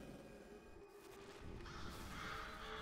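A crow caws from the dark, gritty world of Condemned: Criminal Origins, a hoarse call over a low ambient drone that swells slightly toward the end, with no one speaking.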